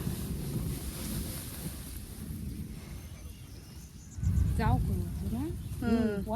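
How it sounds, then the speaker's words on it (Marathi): Steady rushing wind noise in a rice field at harvest as sudden rain arrives fills the recording, buffeting the microphone, with chirping insects and a few brief voices toward the end. "वारा सुटा"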